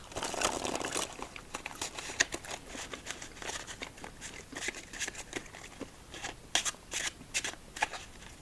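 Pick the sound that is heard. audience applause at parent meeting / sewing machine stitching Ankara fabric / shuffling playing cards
shuffling playing cards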